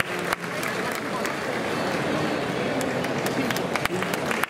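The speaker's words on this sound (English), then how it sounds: "How about another round of applause for them?" An audience applauds at an Okinawan classical dance and music school performance event, a dense wash of clapping with sharp individual claps standing out, while voices talk over it.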